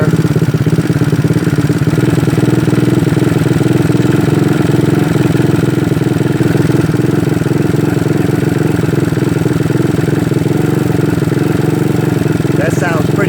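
A GY6 scooter engine with a PWK carburetor idles close and loud, a steady buzzing putter that holds its pitch throughout while someone speaks over it.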